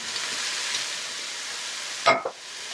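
Cooked pasta and mushrooms sizzle in a hot pan with a constant close hiss, broken near the end by a short burst of stirring and scraping.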